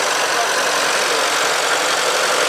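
A 1910 vintage car idles during a classic car parade at the Rétrofolies de Spa, giving a constant, close, hissy mechanical drone with no pauses.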